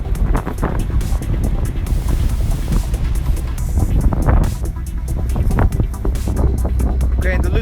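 Strong wind buffets the microphone in heavy gusts, rumbling loudly throughout while a person talks outdoors beside a Ferrari GTC4Lusso T.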